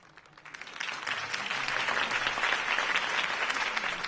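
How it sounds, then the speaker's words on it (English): Crowd applause after Harvey Dent's campaign speech in the Batman Telltale video game, swelling within the first second into sustained, dense clapping that holds steady to the end. "could have heard that applause"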